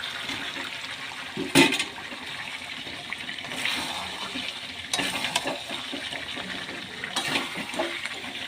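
Pre-fried potatoes tipped into chicken kosha cooking in a pan give a steady, hissing sizzle with a few louder bursts as they hit the hot oil, and no one speaks.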